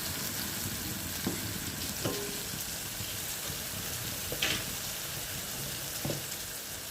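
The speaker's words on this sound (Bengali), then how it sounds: "তেলটা গরম হয়েছে, এর মধ্যে আমি সর্ষে আর শুকনো লঙ্কা ফোড়ন দিলাম" Mustard seeds and dried red chillies tempering in hot oil in a pan for a tomato dish: a dense, steady sizzle and crackle throughout, with a few faint clinks and pops, and no voices.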